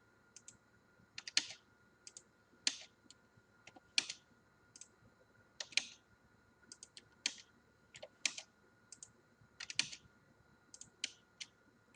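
Commands are typed on a computer keyboard in short, irregular bursts of crisp clicking keystrokes, close and clear against a quiet background.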